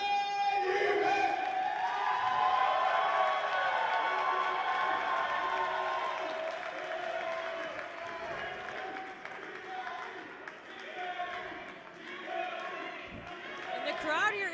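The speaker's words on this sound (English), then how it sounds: "the crowd here is already erupting in TME chants" Wrestling crowd at a live main event roaring, cheering and chanting steadily throughout, loud and reverberant, with an announcer's voice over it.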